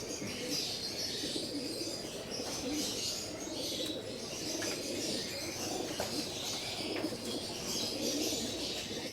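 Released racing pigeons on a training toss in dark, drizzly weather, heard as a steady wash of wing flapping and soft cooing over continuous outdoor ambience, with no talking.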